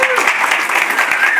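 An audience at an educational talk applauds with a dense, steady wash of clapping, loud and close, lasting the whole short stretch, with a voice faintly mixed in.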